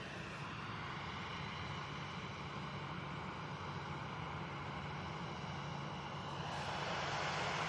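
Airliner engines roar steadily at a distance at an airport, a continuous broad rumble that swells slightly near the end, with no voices.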